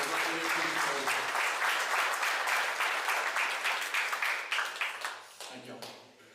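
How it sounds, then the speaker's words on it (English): At a school athletic sports banquet, the audience applauds a team with dense, sustained clapping that thins into scattered claps and fades out near the end, with a voice speaking briefly at the start and finish. "if you'll give these guys a round of applause for their effort this year"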